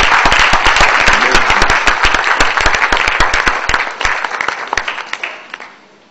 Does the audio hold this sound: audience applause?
yes